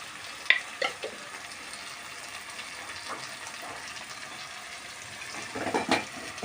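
Masala for a chicken parts curry sautés in a pan with a soft, steady sizzle, broken by a few spoon clinks and scrapes near the start and end, close and quiet, with no talking.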